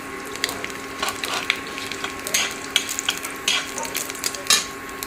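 Green chilies and panch phoron five-spice fry in a pan, a steady close sizzle broken by repeated scraping stirs of a utensil through the spices.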